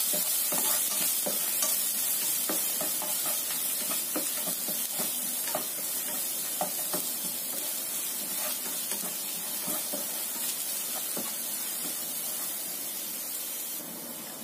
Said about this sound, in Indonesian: Kita goreng sampai kuning matang.